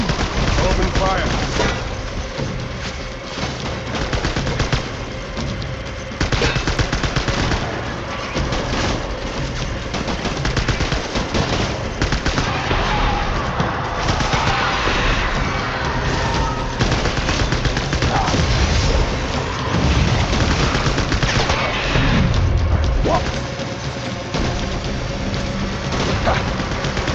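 Dense, continuous gunfire from the Death Stranding video game, steady bursts and rattling shots filling the whole stretch at high intensity, with a voice briefly shouting over the din.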